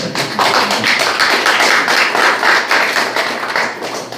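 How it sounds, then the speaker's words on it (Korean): An audience at a community information session on a restoration project in Gangseo-gu, Busan, claps together. The applause is dense and continuous and holds at a steady level for several seconds. "이쯤 되면 박수 한번 치셔야 되는 거 아닌가?"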